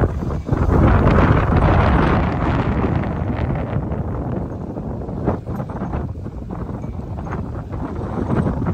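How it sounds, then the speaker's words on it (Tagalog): Strong wind roaring and buffeting against the microphone, loud and continuous with gusty swells throughout. "Ang lakas ng hangin!"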